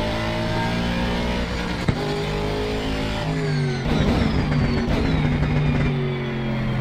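An Aston Martin Vantage GT3 racing engine in Assetto Corsa Competizione drones steadily at Misano, its pitch sweeping up through the revs. A shift comes near the midpoint, and the engine note stays loud and close throughout with no talk.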